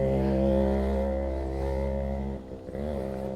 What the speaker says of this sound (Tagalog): Ito yung motor natin, oh.